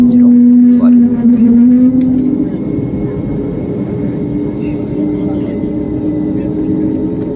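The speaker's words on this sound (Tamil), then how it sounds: "ஃப்ளைட் ஒன்று டேக் ஆஃப் ஆகுறதுனால இப்போ வெயிட்டிங் இருக்குங்க" Jet airliner engines drone steadily at an airport runway during an Indigo flight's take-off wait, heard from inside the cabin as a loud, continuous hum with a low tone that dips slightly early on.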